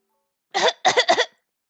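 A girl coughs in the visual novel game 7'Scarlet after eating rotten strawberries. One cough is followed by a quick double cough, close and clear against silence.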